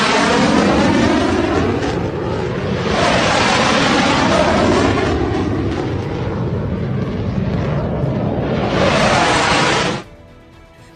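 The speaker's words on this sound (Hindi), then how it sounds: "जगुआर फाइटर जेट ने आमेर के आसमान को गड़गड़ाहट से भर दिया" A SEPECAT Jaguar fighter jet roars low over Amer during an Army Day parade, a loud, sustained engine thunder that swells and sweeps past twice before cutting off abruptly near the end.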